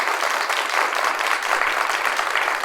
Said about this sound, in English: give Will a little round of applause